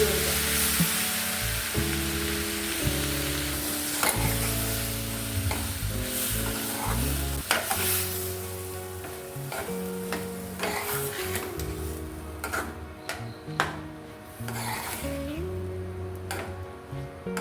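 Homemade Kerala-style mango pickle is stirred in a hot pan with the flame off: soft scraping and light clinks with a gentle sizzle, under steady background music.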